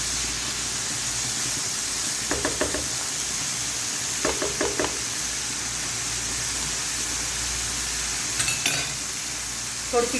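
Spaghetti with soy sauce is stirred in a hot pan over a steady, soft sizzle, with short bursts of scraping utensil strokes coming in small clusters every couple of seconds.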